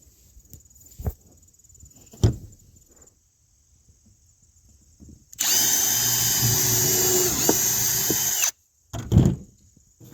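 A power drill drives a screw into the wood of a Peterson bluebird house, one loud sustained whirring burst of about three seconds, framed by a few sharp knocks and quiet gaps.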